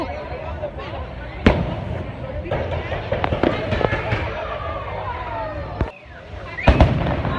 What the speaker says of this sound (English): kind of walking around with the fireworks going off.